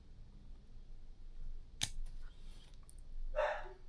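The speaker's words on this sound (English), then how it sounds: "So we're going to trim these off short." A single short scissor snip trims leather stitching thread ends close to the mic, followed by a brief faint rustle, with quiet room background and no speech.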